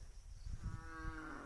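A water buffalo (carabao) on open flat ground in the mountains lets out a faint, distant, drawn-out moo over low rumbling background noise.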